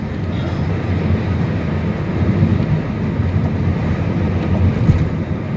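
A heavy BNSF freight train rumbles past close by on the Staples Subdivision near US Highway 10, a steady low roar with rattling cars, no voices.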